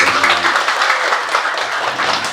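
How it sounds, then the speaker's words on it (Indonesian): A crowd at a mosque youth motivational event applauds a certificate presentation, loud dense clapping throughout, mixed with cheering voices underneath. "Tepuk tangan untuk"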